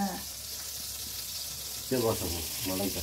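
Pumpkin fries in a wok of oil left from frying fish, making a steady close sizzle. Voices talk over it in the second half.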